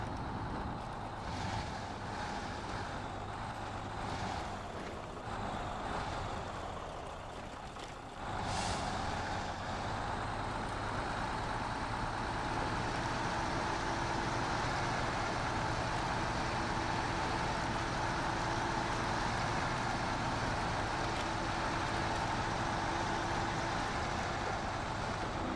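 A MAN TGS 6x6 heavy hauler's diesel engine rumbles steadily in the SnowRunner game, a loud continuous drone with a brief air-brake hiss partway through and no talking.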